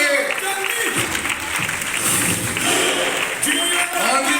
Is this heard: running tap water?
no